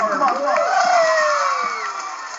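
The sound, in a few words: applause and cheering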